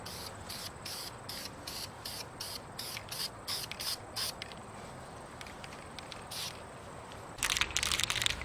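Spray paint hisses in repeated short bursts as a final black coat goes onto a valve cover, the rhythmic passes fairly close and steady, ending in a denser, louder spray near the end.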